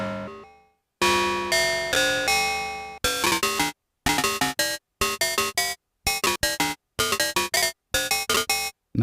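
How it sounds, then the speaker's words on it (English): A bright, hollow bell-like synth tone from a detuned square wave on a Korg Volca Keys plays a series of ringing notes, first sustained, then in quick choppy bursts separated by brief silences. "if you detune it, you get those ringing bell-like hollow"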